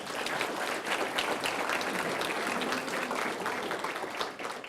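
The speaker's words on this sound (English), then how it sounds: "you should give these guys a round of applause too" An audience at a city address applauds, a dense, steady burst of clapping from many hands that carries evenly throughout without voices.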